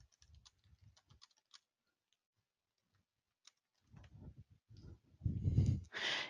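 Fingers type a note on a computer keyboard, giving faint, quick clicking keystrokes in a short burst. Quiet follows, then some low, soft rustling near the end.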